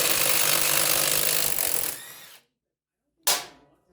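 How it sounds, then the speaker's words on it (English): An impact wrench rattles off a 19mm bolt on the rear hub of a Honda Grom, one loud sustained burst that stops abruptly, then a short sharp follow-up hit, close by with no talking. "First thing is grab your Ugga Dugga 19mm. Take off the bolt."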